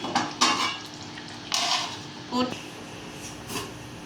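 A pot of fish curry is stirred and jostled, giving a few scattered clinks and scraping bursts with soft simmering in the gaps, close up in a kitchen.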